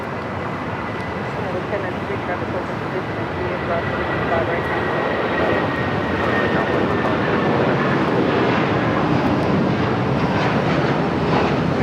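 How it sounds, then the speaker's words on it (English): A United Boeing 757-300 bound for Denver taking off at Los Angeles airport, a loud continuous jet engine roar that builds slightly and holds steady, broadband and close, with no break. "Next takeoff, another United 757-300, this time heading to Denver"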